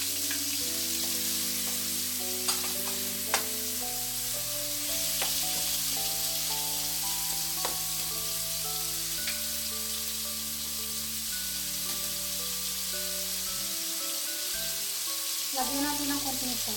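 Shrimp frying in a pan for vegetable lumpia, a steady loud sizzle running throughout with occasional stirring scrapes and a music bed playing underneath.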